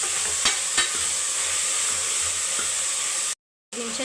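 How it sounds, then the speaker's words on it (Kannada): Garlic, onion, tomato, grated coconut and coriander frying in oil, a steady loud close sizzle with a few stirring knocks, cut briefly by silence near the end. "ಟೊಮೊಟೊ, ಕೊಬ್ಬರಿ, ಕೊತ್ತಂಬರಿ ಎಲ್ಲ ಫ್ರೈ ಮಾಡ್ಕೊತಾ ಇದ್ದೀನಿ"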